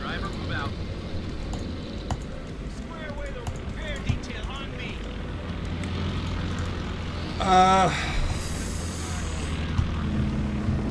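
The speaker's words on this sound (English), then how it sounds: "More planes coming in!" Warplanes fly in over a Company of Heroes 2 battlefield, a steady engine drone beneath constant combat rumble, with a brief louder swell midway and voices in the mix.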